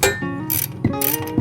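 A 1/2-inch ratchet tightens bolts on a mounted bar, giving a few quick, close clicking bursts with short pauses between them and no talking.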